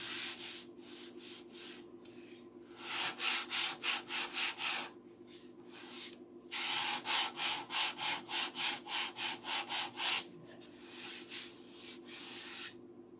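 Final hand sanding of wood, rhythmic back-and-forth rasping strokes in fast bursts separated by short pauses, close and fairly loud with no talk.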